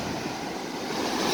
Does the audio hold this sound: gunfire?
no